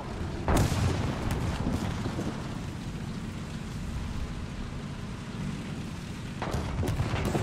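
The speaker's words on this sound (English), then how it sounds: "Oh, a critical hit with artillery!" An artillery shell slams into a Sherman II tank in War Thunder, a heavy close boom at the start and another burst near the end, with a continuous rumbling, rain-like battlefield wash between them.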